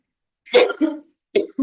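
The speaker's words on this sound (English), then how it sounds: "Try not to cough." A couple of sharp, close coughs, the first a harsh double burst, the second shorter and followed by a brief throat sound.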